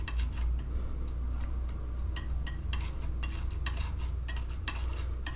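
Oil paint, ivory black among it, is worked together on a palette with soft, irregular scraping and tapping strokes over a low steady hum, fairly quiet and close, with no voices.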